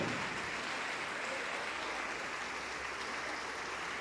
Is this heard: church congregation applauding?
yes